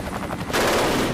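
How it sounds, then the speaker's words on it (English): Rapid gunfire in a reenactment of a school shooting, a dense burst of shots that starts abruptly and stays loud and continuous, following a quieter rattling stretch. "He's shooting in the library right now."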